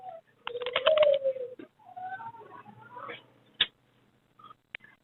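A breeder pair of Shield Copper fancy pigeons at a Sunday bird market coo in soft, wavering calls close by, followed by a few short sharp clicks and faint calls.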